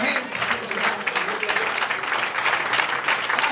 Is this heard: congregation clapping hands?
yes